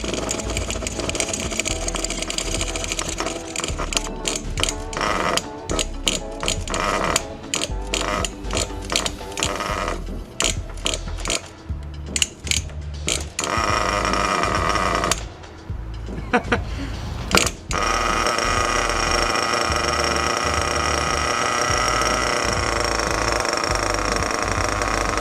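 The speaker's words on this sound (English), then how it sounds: "then you go ahead and start trying to pull start the engine" Nitro engine of an RC car being pull-started on a cool day: repeated sharp rattling bursts of the pull cord and sputtering attempts, then the motor catches and settles into a steady, loud, buzzing idle.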